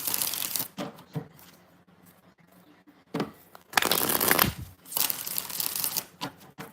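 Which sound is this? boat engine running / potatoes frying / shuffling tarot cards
shuffling tarot cards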